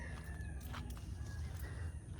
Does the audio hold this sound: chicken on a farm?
yes